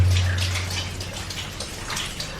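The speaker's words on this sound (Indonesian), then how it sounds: "Ada gemercik air." Water trickles and drips inside a Dutch colonial-era cave at Gunung Puntang, a soft, steady wash of splashing droplets heard up close with no talking.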